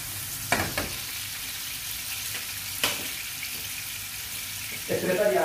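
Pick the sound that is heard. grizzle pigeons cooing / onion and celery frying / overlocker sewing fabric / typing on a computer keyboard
onion and celery frying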